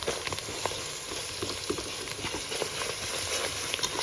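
Oil sizzles and crackles in a pan with white fat as Ethiopian dulet is fried, a steady close sizzle with light pops and stirring clicks, and no one talking.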